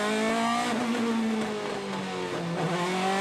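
DTM touring race cars at Zandvoort in 2018 qualifying, sweeping through the slightly banked Tarzan turn, engines howling loud and steady with pitch dipping and rising as they brake and accelerate, a faint tire squeal under the roar.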